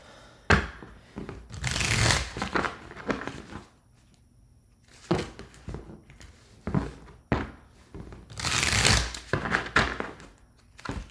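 Tarot cards are shuffled in several bursts of riffling and slapping against a table, loud and close, separated by quieter pauses with occasional soft knocks.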